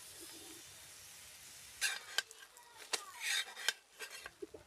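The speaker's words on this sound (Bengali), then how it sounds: "উল্টে পাল্টে পরোটাটাকে ভালো করে ভেজে নিচ্ছি।" A cauliflower paratha being turned and fried in a pan, with metal utensils clattering and scraping in short, irregular knocks over a faint background hiss.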